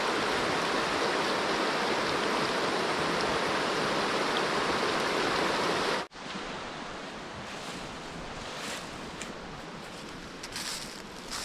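A rural river in a farming area of Tayabas rushes steadily, a dense broadband watery roar that stays loud and continuous, shifting abruptly midway to a somewhat softer, airier flow with light wind buffeting.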